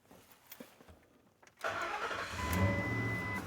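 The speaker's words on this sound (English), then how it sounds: "So now I'm gonna start the truck." A Ford F-150 pickup with a stuck parking brake warning light cranks briefly after a few quiet clicks, then catches and settles into a steady, close idle with a slight swell, no voices heard.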